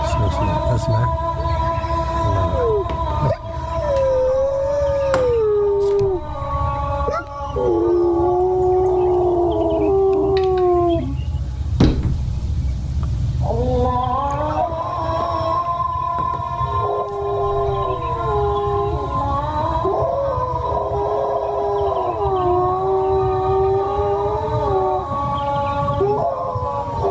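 Several dogs howl in long, wavering, siren-like tones during the Islamic call to prayer (adhan), their overlapping voices rising and falling steadily over a continuous low background for the whole stretch.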